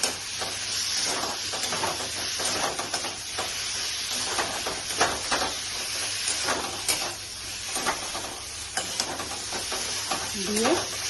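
Pointed gourd and potato pieces sizzling and frying in a pan while being stirred, with steady hiss and repeated scraping of the spoon, close and continuous, a brief voice near the end.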